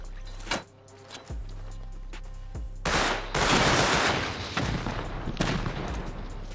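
An automated turret in Rust fires in bursts of rapid gunfire. Early single loud cracks give way to sustained, dense volleys that continue through the rest of the clip.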